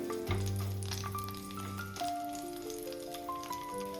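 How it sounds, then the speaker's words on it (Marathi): Ginger sizzles in hot oil in a pan for a prawn masala, a steady close frying crackle lasting throughout, with sustained musical tones running over it. "आनी घालता आलें थोडेशें. मातशें तळशीता बरें."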